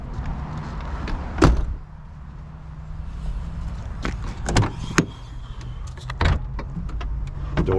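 The doors of a 1998 Chevrolet Suburban 1500 4x4 are opened and shut, making several sharp latch clicks and thumps at uneven intervals, close by, against a quiet outdoor background.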